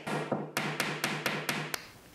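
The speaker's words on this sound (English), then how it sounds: "I then hammered a nail with a washer around it into the wood to create these dimples." A hammer drives a nail fitted with a washer into wood on an upholstered headboard, producing about eight sharp, evenly spaced, close knocks followed by a brief pause.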